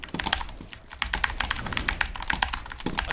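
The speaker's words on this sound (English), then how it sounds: "I hit my keyboard." Rapid clattering keystrokes on a computer keyboard during a Fortnite match, a close, busy run of sharp taps with a brief pause, no talk.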